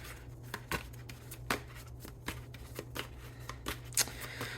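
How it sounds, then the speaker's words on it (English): A deck of tarot cards being shuffled by hand, a soft, close series of riffles and flicks in irregular bursts over a low steady hum, with no talking. "Get a good shuffle going."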